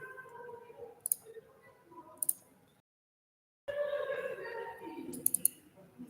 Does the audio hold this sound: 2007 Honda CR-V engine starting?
no